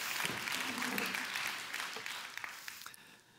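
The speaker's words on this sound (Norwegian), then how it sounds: "jeg synes at du fortjener en applaus" An audience at a conference on social inequality breaks into applause, a crowd's brisk clapping that gradually thins out into a few scattered last claps.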